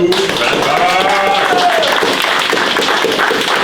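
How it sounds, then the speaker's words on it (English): Brief round of applause for a master technician setting off on a 10,000-mile Hoka Hey motorcycle challenge, steady clapping at moderate volume with voices and cheering mixed in. "Oh, round of applause for Trevor."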